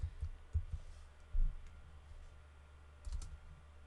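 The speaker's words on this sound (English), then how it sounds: "select everything and type in export" A few soft keystrokes on a computer keyboard typing a command in Rhino, scattered clicks in small bursts with pauses, close and quiet with no talk.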